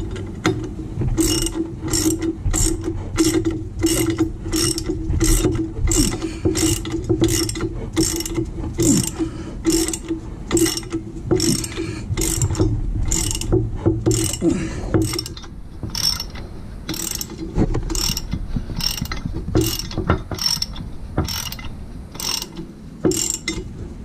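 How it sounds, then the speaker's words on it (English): A hand ratchet snugs bolts during a Jeep TJ engine build, setting torque converter, starter and engine mounts, giving a long run of quick, steady, loud metallic clicks close by with brief pauses. "So now what I want to do is I want to snug all the bolts."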